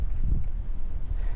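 Strong summer wind outdoors in Canada buffets the microphone with a low, continuous rumbling roar that rises and falls in gusts, and no voices are heard.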